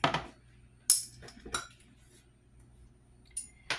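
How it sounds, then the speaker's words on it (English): Metal measuring spoons clink against each other and a bowl while pumpkin pie spice is added, several sharp separate clinks with quiet gaps between them. "now I'm going to add 1 teaspoon of pumpkin pie spice."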